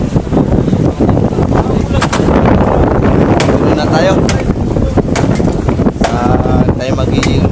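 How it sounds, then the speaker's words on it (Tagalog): Strong wind at sea roars and buffets continuously against the microphone, with sharp gusts, heavy low rumble and intermittent splashes of rough, whitecapped water, while someone speaks briefly over it. "Tapos ay malakas ang hangin."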